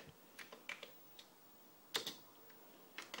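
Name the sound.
typing a load command on a Commodore C128 keyboard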